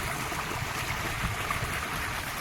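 Water pumped by two irrigation motors in a farm field flows and gushes steadily, a continuous broadband rush with no pauses, heard alone at moderate loudness.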